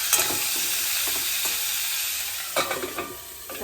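Spiced mixed vegetables with salt and turmeric stirred in a hot pan, a steady sizzle of frying under scraping spoon strokes that come in a few close clustered bursts, with nobody speaking.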